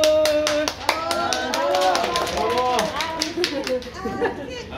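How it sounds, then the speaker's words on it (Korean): A group of Mexican students at a Korean folk song lesson claps hands in a quick, irregular flurry while voices call out and chatter over it. "자, 박수."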